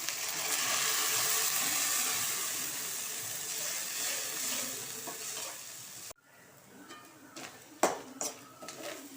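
Goat blood is poured into a pan of fried onions and green chilies, setting off a loud, steady sizzle that suddenly drops to quieter, scattered crackling with a few sharper stirring clinks.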